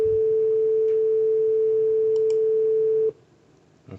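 A steady pure sine tone from a Java noise-canceling program holds unbroken for about three seconds, then cuts off abruptly, leaving faint background noise.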